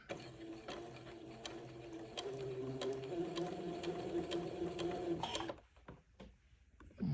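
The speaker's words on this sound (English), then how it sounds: "So I'm just going to sew a tiny little seam, just catching the edge of the bias fold." A sewing machine stitches a tiny seam along a bias fold on an antique baptismal gown. Its steady whirring hum runs for about five seconds, then stops, leaving quiet handling noises.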